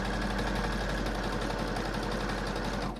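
A sewing machine runs steadily, stitching a straight line close to the edge of a T-shirt. The motor whirs continuously and evenly at close range for about three seconds, then stops abruptly.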